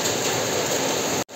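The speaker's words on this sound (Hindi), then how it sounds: "ये देखो खतरनाक वाला बारिश पड़ रहा है" Heavy rain with hailstones pelting down outdoors, a dense, steady roar of drops and hits, loud and continuous, cutting off abruptly at the end.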